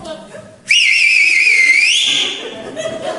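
A whistle blown hard and loud in a single sustained blast of about a second and a half, wavering slightly in pitch, with a church congregation murmuring softly before and after it.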